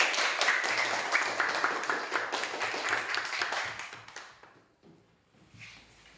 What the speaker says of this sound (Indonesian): beri tepuk tangan untuk kelompok mawar